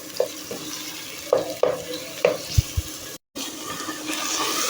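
Minced meat for Pakistani-style keema matar fries in a pan, a steady close sizzle broken by spoon scrapes and stirring clatter, dipping into a brief silence before the frying carries on.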